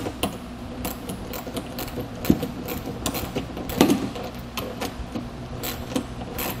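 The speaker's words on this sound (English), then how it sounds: "Get this tightened down with 13 millimeter socket and wrench." A 13 mm socket wrench ratchets a nut tight while a kayak trailer is assembled, giving soft, irregular clicking and ticking close by over a constant low background hum.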